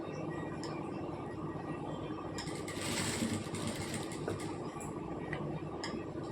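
A sewing machine stitches a blouse with a faint, rapid mechanical ticking and whir that runs evenly throughout, quiet and without speech.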